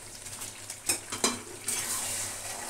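Potato and pea curry frying and stirring in a pot, with steady sizzle and a few scraping stirs of a utensil against the pot, close by and without talk.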